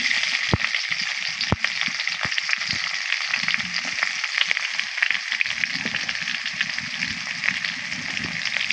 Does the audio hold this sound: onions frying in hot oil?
yes